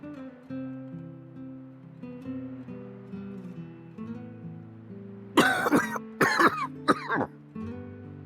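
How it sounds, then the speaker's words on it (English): A character coughing in the video game Xenoblade Chronicles 2, a few harsh bursts of coughing and throat clearing over soft, sustained background music. "Just a pesky little cough."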